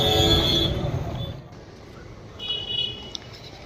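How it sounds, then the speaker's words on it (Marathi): Ambience at Manmad railway station: a low rumble with brief tonal sounds like a distant horn or signal rising and fading over a few seconds, with no clear speech. "आपण मनमाड स्टेशनला आलो"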